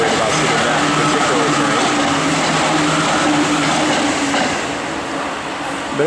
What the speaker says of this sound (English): And here comes a train actually.